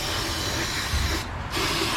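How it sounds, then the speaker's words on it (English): Brake cleaner sprays in a loud, steady hiss for about two seconds, briefly cutting out mid-stream before resuming, up close. "let's spray some brake clean in here to wash away any debris that's floating around"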